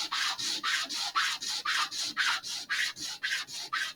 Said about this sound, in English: I'm just going to sand it until hopefully all the black part is off.